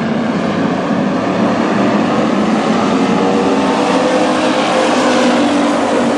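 Street stock race cars roar around a dirt speedway at a WISSOTA event, a loud, steady wall of engine noise from the pack with no break and no talk over it.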